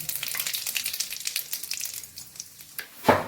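Whole cumin, cinnamon, cloves, a dried red chilli and a bay leaf sizzle in hot oil with a steady crackling fry, closing with a sharp louder hiss and clink as more goes into the pan.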